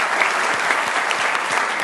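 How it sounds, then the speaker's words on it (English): A debate audience at Hobart and William Smith Colleges applauds steadily, a brief dense patter of clapping from a room full of people. "Let's give him a round of applause."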